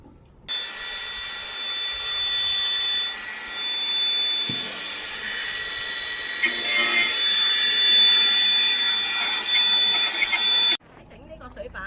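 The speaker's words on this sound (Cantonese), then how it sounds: "一樣要用一部磨機去做一個打磨嘅" A power grinder sanding a boat during repair work, drilling and fibreglass prep, makes a loud, continuous high whine that holds for about ten seconds and then cuts out abruptly near the end.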